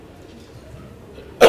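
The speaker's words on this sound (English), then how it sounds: "I have this bad cough, so which will interrupt me every now and again." After a quiet room tone, a single sharp cough bursts out close by at the very end.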